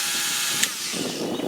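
A Dremel rotary tool fitted with a sanding pad or disc grinds rust from rear brake parts of a 2007-or-later Ford Expedition, a steady close whine running throughout with a brief sharper burst partway through.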